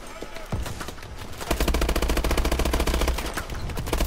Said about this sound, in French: je tire plein de balles